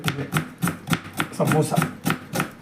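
Onions being chopped into small pieces with a knife on a board for samosa filling, about nine crisp, evenly spaced chops close up, with a voice speaking faintly in between.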